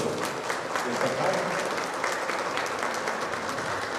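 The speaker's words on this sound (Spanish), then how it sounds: "fuerte aplauso" Loud, dense applause from a crowd at an event on a deputies' election, a steady wash of many hands clapping that holds throughout without pause.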